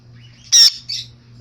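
A pet bird gives one loud, sharp squawk close by, then a shorter softer follow-up call, over a low steady hum.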